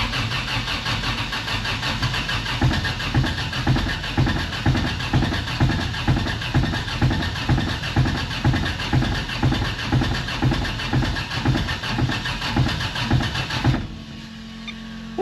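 A turbo-swapped project car's engine turns over and catches, then settles into a steady, loud idle with a regular pulsing rhythm close by before cutting out near the end.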